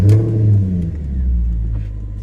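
A 2016 Maserati GranTurismo Sport engine cranks and catches, then settles into a deep, steady rumble with a brief rev early on, loud and close.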